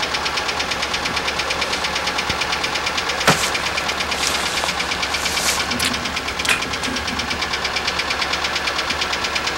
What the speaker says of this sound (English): at least the engine's still running